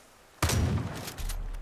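In Far Cry 5, a vendor is shot down by a sudden, loud, close burst of gunfire that breaks a quiet moment, then a second volley of shots follows.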